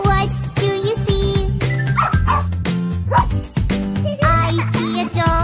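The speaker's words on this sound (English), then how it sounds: "I see a dog. Woof, woof, woof." Several short dog barks pop out over cheerful background music, with a couple of yips in the middle.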